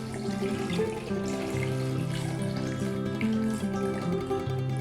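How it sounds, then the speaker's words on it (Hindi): Water poured into a cooking pot for an aloo matar curry, a continuous close running stream with a shifting gurgling tone that stays steady throughout. "हम इसमें पानी ऐड कर रहे हैं।"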